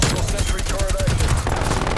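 Rapid automatic fire from a sentry turret in Call of Duty: Black Ops Cold War: a loud, continuous stream of closely spaced shots, with a brief electronic tone partway through.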